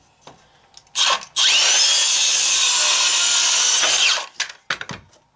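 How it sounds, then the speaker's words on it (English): A Makita XSH03 18V LXT brushless cordless 6-1/2 inch circular saw spins up and rips through wood in one loud, sustained cut of about three seconds, with brief handling knocks before and after and no talk. "Pretty nice little saw. Got a lot of power, folks."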